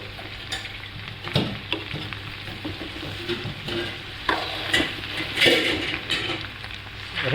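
Oil sizzles steadily in a pan of okra while a spoon stirs and scrapes at intervals, close up with no talking.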